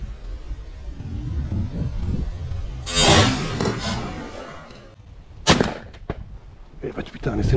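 Shotgun blasts ring out during a goose hunt in Sweden: a loud boom near the middle, then a sharper report and a couple of fainter shots toward the end, over outdoor wind noise.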